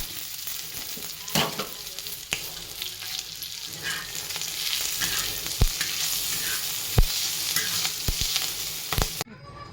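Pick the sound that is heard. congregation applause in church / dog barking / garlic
garlic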